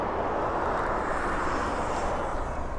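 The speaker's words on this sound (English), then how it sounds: "this is the Ryanair 737 in from Alicante." A Ryanair Boeing 737 arriving from Alicante at East Midlands Airport sends out a steady, loud jet roar that holds without a break, with no voices over it.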